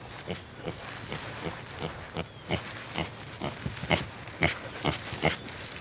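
A pig using a wheeled cart grunts and oinks in a steady series of short, close snorts while rooting and moving about, with no talking.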